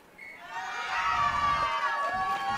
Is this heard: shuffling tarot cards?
no